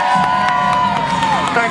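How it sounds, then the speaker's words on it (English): Audience cheering and shouting for a stand-up comedian, a dense, loud crowd roar with whoops rising throughout, voices mixed into the noise. "Let's have a round of applause for me."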